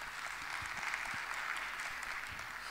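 A conference panel audience applauds at an urban regeneration event, dense steady clapping that stays fairly even and moderately distant for a few seconds, with no talk over it.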